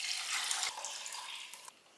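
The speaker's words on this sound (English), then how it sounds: "add water," Water poured into a cooking pot of Ofe Nsala white soup with seasoning and blended peppers, a steady close hissing splash that stops abruptly near the end.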